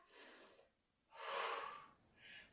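A person taking big deep breaths during an exercise workout, with two long breathy inhale-exhale sounds and a shorter third one, close and soft with no talking.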